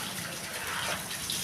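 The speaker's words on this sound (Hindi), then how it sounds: "हम आपको दिखाएंगे कि हम किस तरह से धोएंगे" Water runs steadily from a tap during washing up, a continuous broadband gush with no talk over it.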